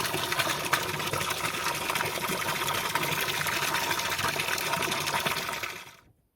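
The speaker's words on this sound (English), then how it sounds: "I'm going to go get the hose and water it, and I'm going to fill up this tub" A garden hose pours water into a tub in a steady, loud rushing gush that runs unbroken for several seconds, then cuts off abruptly as the flow stops.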